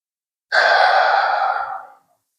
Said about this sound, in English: Deepest breath in.